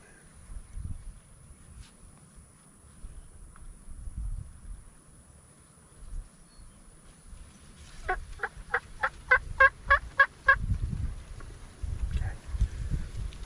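Wild Osceola turkeys in a central Florida pasture, a rapid rattling gobble of about a dozen quick pulses from a moderate distance, surrounded by quiet rustling and low background noise.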